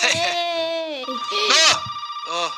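A phone ringtone plays in a game, a loud, clear electronic tone sounding in short repeating bursts, close and alone without talk.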